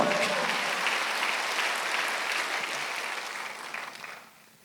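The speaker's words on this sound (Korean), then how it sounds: "박수 한번 더 해주세요." A congregation applauds at a Sunday church service, producing dense, even clapping that carries on for about four seconds before tapering off at the end.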